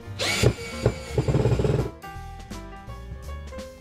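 An IKEA FIXA cordless lithium-ion screwdriver drill whirs at top speed, with a few short motor bursts giving way to a steady, tonal electric hum, close and fairly loud with no talking.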